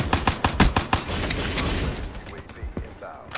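Short bursts of gunfire from a rifle in Black Ops 3 multiplayer crack out in a fast, repeated rhythm, then give way to scattered distant shots and quieter game noise.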